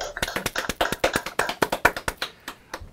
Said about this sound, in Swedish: Ska vi applådera allihopa?